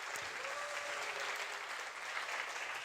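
A congregation at a Korean university-group Sunday church service applauds to welcome newcomers, a steady, soft wash of many hands clapping that continues evenly throughout.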